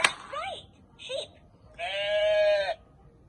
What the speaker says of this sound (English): Here is the sheep.